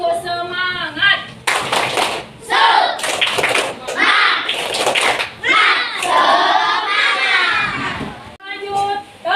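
A fifth-grade primary school class doing a rhythmic spirit-clapping routine, bursts of group clapping in set patterns alternating with children chanting together and an adult voice leading.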